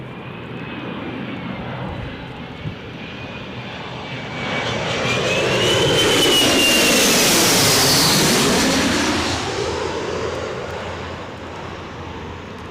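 A fixed-wing airliner comes in to land at Newcastle Airport during a windy storm, its engine roar building from a distant rumble to a loud, close pass and then fading away, with steady wind noise throughout.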